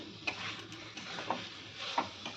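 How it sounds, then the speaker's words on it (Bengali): Boiled potatoes frying in a pan for egg curry, a soft continuous sizzle with a few light stirring scrapes, close by and fairly quiet, with no talking. "আমার আলুটা ভালো করে কষানো হয়ে গেছে"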